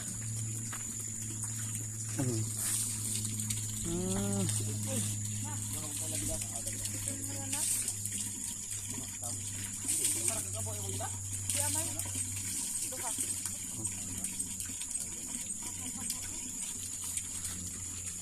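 Water runs steadily in the background while people talk nearby, with a constant gushing hiss throughout.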